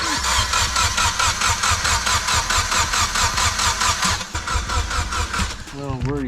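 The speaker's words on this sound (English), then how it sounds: "I'm gonna crank it over until I build oil pressure and then I'll put the fuse in." Engine being cranked over to build oil pressure after losing its oil at high revs: a steady, rapid, rhythmic starter churn that goes on for several seconds without catching, then eases off as a voice starts to speak.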